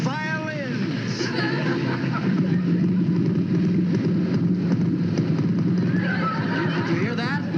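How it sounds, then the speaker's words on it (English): Horses whinny loudly at the start and end while hooves clop in the background, with a low engine hum beneath. "Listen to those horses in perfect harmony."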